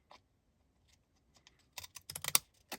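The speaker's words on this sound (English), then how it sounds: "have my decorative scissors and I want to trim around the edges" Pinking shears with decorative blades trim around the edges of a small square of paper, giving a few quiet crisp snips that build into a quick run of sharper cuts near the end, close and alone.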